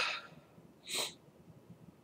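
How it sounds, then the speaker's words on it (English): A single short, sharp nose blow in the middle, with a faint sniff at the start and quiet breathing around it, close and fairly soft, no talking. "I'm going to blow my nose too, again"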